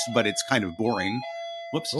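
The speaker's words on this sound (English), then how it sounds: "That's my doorbell." A home doorbell chimes clearly with sustained ringing tones under and between a man's speech, the ring lingering briefly as he pauses.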